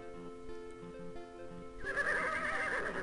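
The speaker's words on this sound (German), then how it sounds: "Und es wiehert genauso wie das Pferd in King's Quest 7" Horse neighing in the King's Quest VI video game, a loud whinny breaking out partway through over quiet game music, standing out clearly and continuing to the end.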